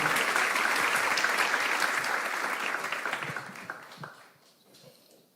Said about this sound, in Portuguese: Uma salva de palmas aqui para Alexandre.